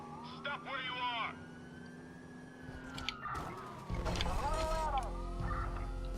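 A wailing police siren in the video game Watch Dogs rises and falls steadily in the background, with engine rumble and someone talking over it.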